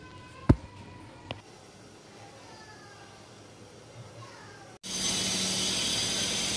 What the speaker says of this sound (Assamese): ৰেয়াছত কিমান ধুনীয়াকৈ উতলি আছে,